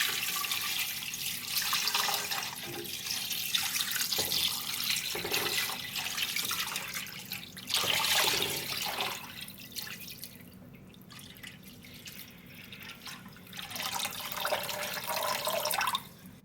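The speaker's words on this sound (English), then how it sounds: "Now, just add cold water to about like 2 inches over the meat." Cold water streams steadily into a pot holding meat for chicken soup, a continuous splashing rush that fades briefly and then resumes, with no voices.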